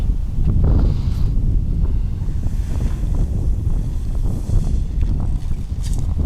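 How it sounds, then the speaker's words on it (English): Heavy wind roars across an RC plane flying field as a storm approaches, a loud, steady low buffeting against the microphone that swells and eases in gusts, with no one talking. "the wind's starting to get crazy right now"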